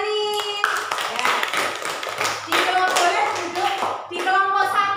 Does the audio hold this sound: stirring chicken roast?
no